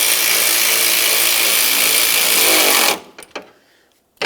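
Power tool running with a steady high whir for about three seconds as it snugs hood release handle bolts on a 2000-2005 Buick LeSabre, then stopping abruptly, followed by a few short clicks and knocks close by.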